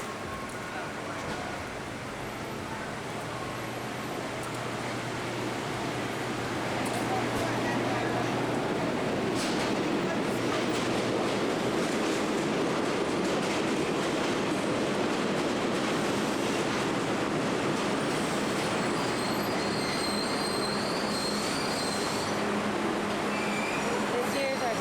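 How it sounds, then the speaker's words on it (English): New York subway train passing in Bensonhurst, a sustained rumbling roar with clattering wheels that grows louder partway through and stays close for the rest, with people talking over it now and then. "This here's our subway."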